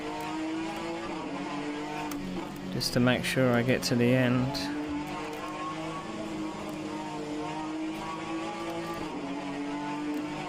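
Alfa Romeo race car engine run at maximum power in a racing video game set at Kyalami, a steady droning whine throughout, with someone talking over it midway.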